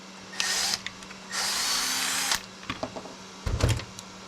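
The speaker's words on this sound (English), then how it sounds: "that altitude adjustment screw and open it up to where you have access to the negative and positive terminals" A small powered screwdriver whirs in two short bursts while removing the altitude adjustment screw from a red-dot finder, followed by light clicks and a brief knock, close and quiet.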